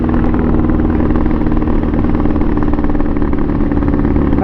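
A Pitster Pro XTR250 dirt bike engine bogging, loud and close, a continuous rough, labouring drone that holds steady without clean revving, with no voices.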